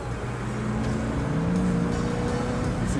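An open-top sports car built to the design of the 1959 Le Mans winner drives nearby, its engine a moderately loud, rising hum mixed with road noise, with no speech.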